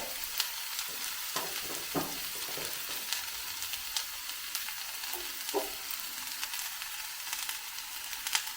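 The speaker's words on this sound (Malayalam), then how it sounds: "ഇനി നമുക്കിതെല്ലാം കൂടെ ഇളക്കി യോജിപ്പിക്കാം" Eggplant and egg masala with salt being stirred in a hot pan, a steady close sizzle and frying hiss with scattered scraping clinks of the spoon against the pan throughout.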